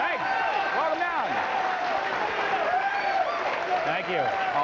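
A television studio audience in Burbank claps steadily in a 1994 late-night talk show, the applause a dense, continuous wash with a voice talking over it.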